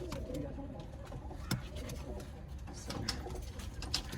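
Pigeons kept for sale at a roadside stand in Garia coo softly in low, rolling calls, several overlapping at close range against faint background noise and a few sharp knocks.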